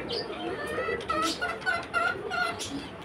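Backyard chickens, including a black hen, cluck and squabble close by while being fed, with short rising calls and chatter in a quick, uneven burst.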